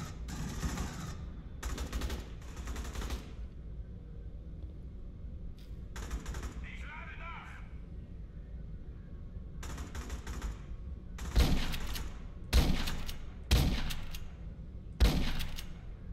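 Short bursts of gunfire in the sci-fi shooter game Aliens: Colonial Marines, several sharp separate volleys near the end after a stretch of low background rumble, loud and close.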